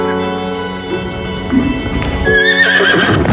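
A horse whinnies loudly and close by, with hooves clip-clopping underneath and a rising, shrill neigh toward the end, heard amid film-trailer sound at a riding stable.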